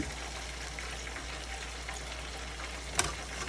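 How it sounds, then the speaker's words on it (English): A lobster tail fries in hot oil with a continuous close crackling sizzle and one brief louder burst near the end, with no voices. "we're going to take our lobster tail out of the oil"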